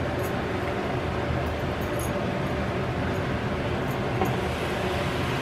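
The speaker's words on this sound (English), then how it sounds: "The noise you hear in the background is the air conditioner." An air conditioner runs steadily in a home kitchen on a hot day, a constant low broadband hum and whoosh that fills the background without change, moderately loud.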